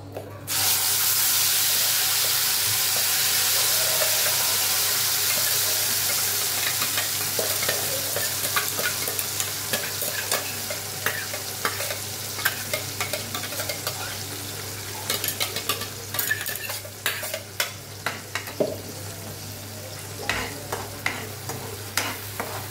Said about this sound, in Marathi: तेल आपलं गरम झालेलं आहे. त्यामध्ये मी आता ही प्युरी टाकून घेते.